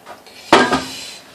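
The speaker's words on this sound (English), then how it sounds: "put a pot over the hot boiling water to keep it from bubbling up" A metal cooking pot is set on top of another pot of boiling water, giving one sharp clank followed by a brief ringing decay.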